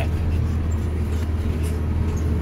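Ride-on digger vehicle driven at Diggerland theme park, a steady low engine rumble heard from on board, continuous and fairly loud with no clear changes in pitch.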